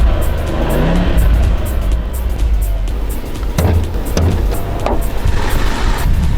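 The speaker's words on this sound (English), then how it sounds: "car starts right up." A 2006-2010 BMW 650i convertible engine running close by, a loud steady rumble with a few sharper bursts of revving.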